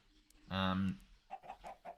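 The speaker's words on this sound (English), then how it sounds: "I guess there's a lot of chickens." Chickens clucking on a Minecraft server base, a loud close cluck followed by several quicker, softer clucks in succession.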